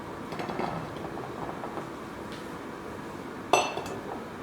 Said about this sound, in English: First step is to add your tomatoes into your pan.